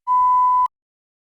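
A single clean electronic beep, a steady pure tone lasting just over half a second and then cutting off into silence, marking the start of response preparation in a TOEFL speaking practice test.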